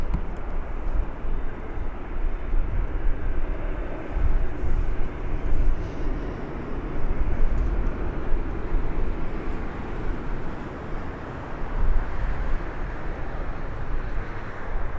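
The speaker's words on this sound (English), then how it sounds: "Let's have a go at rating this Ryanair landing" A Ryanair airliner lands at Birmingham Airport, its engines a broad, rumbling roar that holds steady and loud throughout, with low-end gusts rising and falling.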